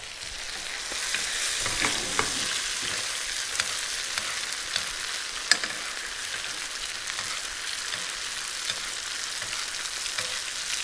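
Dover sole pan-roasts in sizzling aromatic butter, a loud continuous crackling fry with the hiss of spooned basting running steadily throughout.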